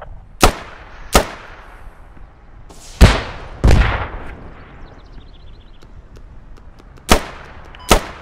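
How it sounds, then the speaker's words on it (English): Video game gunfire in a multiplayer squad match, six sharp, loud shots spaced irregularly, some single cracks and a couple with longer booming tails, over a quiet background. "I'm getting shot at"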